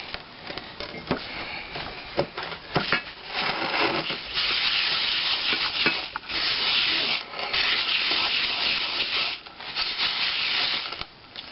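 Sanding the surface of a cast iron pan during old-style cleaning, a steady close abrasive rubbing and scraping with rhythmic strokes, briefly pausing between passes, loud and continuous with no talking.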